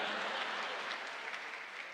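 Audience applause fills the room in a dense, steady wash of clapping, loud and sustained from start to finish, with no talk over it, at a Hindi stand-up comedy show.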